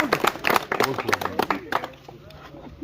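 Scattered clapping from a crowd honoring winners of a marathon race in Azad Kashmir, short uneven bursts of applause near and moderate in loudness, with people talking throughout.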